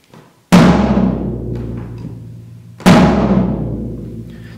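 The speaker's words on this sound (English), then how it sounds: "That's what the drum sounds like now." Tuned tom drum from a drum set hit twice, a few seconds apart, each loud close strike sustaining into a slowly fading resonant ring.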